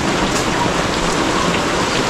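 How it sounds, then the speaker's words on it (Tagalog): Steady, dense rain pours onto surfaces with a constant close hiss of drops. No other sound breaks through. "Naabot na ng ulan."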